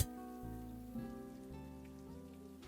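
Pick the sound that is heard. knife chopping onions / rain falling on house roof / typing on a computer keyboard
rain falling on house roof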